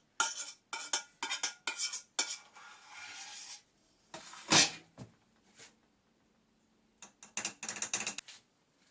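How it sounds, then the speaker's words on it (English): Peach and melon jam being scraped out of a metal pot with a utensil, a run of sharp clinks and scrapes in bursts, a pause, then more quick scraping strokes near and clear. "scrape as much of it as we can out of the pot"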